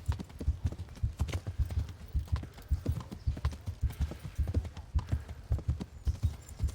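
Video-game horse hooves clip-clop in a steady trotting rhythm, close and even, with no talking.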